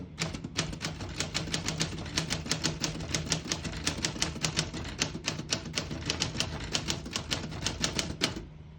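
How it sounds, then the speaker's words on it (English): Typing on a 1935 Corona Standard portable typewriter gives a steady, fast run of sharp, close key strikes with mechanical clatter, continuing evenly for several seconds before stopping. "I'll type a sentence in red on the next line and switch from black to red."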